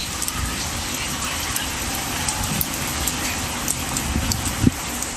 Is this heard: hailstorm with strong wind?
yes